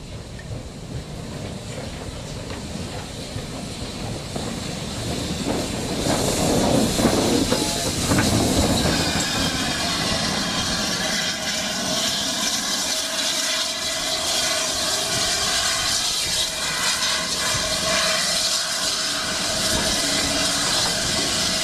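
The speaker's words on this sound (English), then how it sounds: "we have a train with, luckily, an ex-Great Western engine pulling it" Steam train on the Dawlish and Paignton–Dartmouth line, hauled by an ex-Great Western engine, rumbling past with a steady roar, hiss and rhythmic clatter of carriages that swells around the middle and then holds fairly loud and close.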